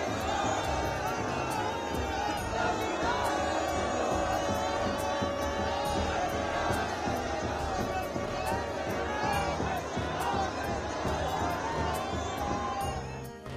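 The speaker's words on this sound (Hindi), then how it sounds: "संतों और श्रद्धालुओं की इतनी ज्यादा भीड़ हो गई" Dense crowd of saints, Naga sadhus and pilgrims at the Maha Kumbh Sangam, a loud unbroken hubbub of many voices, shouting and movement.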